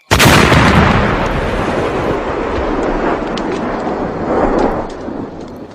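A deep, booming explosion in a Thai audio drama, one loud blast that swells and then rolls on in a long rumbling tail.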